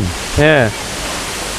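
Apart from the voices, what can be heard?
Jeongbang waterfall on Jeju Island falling into the sea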